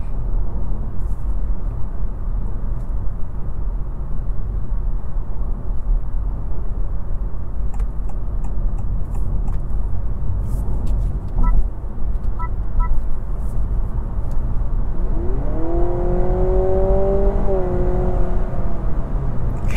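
A 2025 Honda Civic Hybrid Sport Touring driving and accelerating, heard from inside as a steady low road and engine drone, with a rising whine toward the end as it speeds up.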